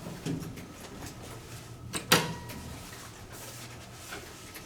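Modernized Westinghouse traction elevator doors at a Seattle hotel try to close with a faint rumble and then a single sharp metallic clunk over a low steady hum.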